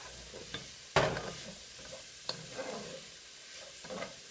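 Cabbage, carrots and Spam stir-fried in a pan for fried saimin, with a few sharp scraping strokes of a utensil over a soft background sizzle, one loud clatter standing out, no voices.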